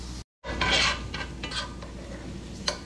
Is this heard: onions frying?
yes